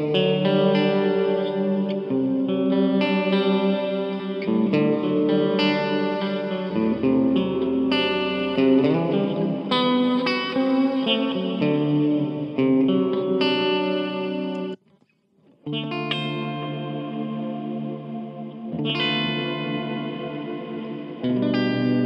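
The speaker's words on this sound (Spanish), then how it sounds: "quiero mostrarles cómo suenan los sonidos analógicos, en este caso una reverb" Electric guitar played through an analog reverb pedal at a jam session, loud sustained chords and melodic lines ringing out with a wide wash of reverb and a brief drop to near silence partway through.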